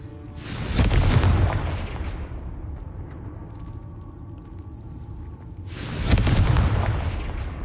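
Two heavy explosive spell blasts in Hogwarts Legacy, each a loud booming burst that rumbles and fades over a couple of seconds, spaced about five seconds apart.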